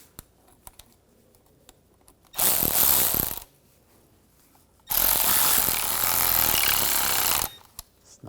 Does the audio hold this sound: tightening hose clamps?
yes